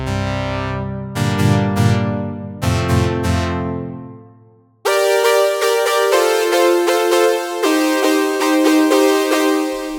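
Brass preset on a Softube Model 77 plugin emulating the Yamaha CS80 synth: loud sustained brassy chords, first a low swelling stab with short repeated hits, then brighter held chords that change a few times, with no voices.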